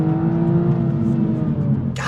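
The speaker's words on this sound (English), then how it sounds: "God dang, second gear rips in this thing on a track." A Toyota Supra 45th Anniversary with a manual gearbox pulls hard in second gear on a track, its engine a strong, sustained tonal drone heard from close inside the car, ending abruptly after about two seconds.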